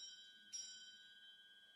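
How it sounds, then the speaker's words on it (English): A council meeting warning bell sounds, a single faint electronic chime with a short bright strike and a steady ringing tone that fades slowly. "the warning bell will sound like this"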